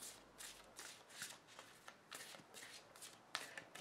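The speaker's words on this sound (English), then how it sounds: "it just keeps telling me to keep shuffling, keep shuffling, keep shuffling." A deck of tarot cards is shuffled by hand in quick, soft riffling bursts, close and fairly quiet, with no one talking.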